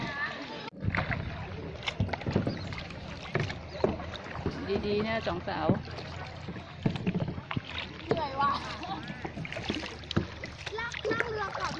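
Kayak paddling on the sea during a beach challenge event: steady paddle splashes and water sloshing up close, with women chatting and laughing over it throughout.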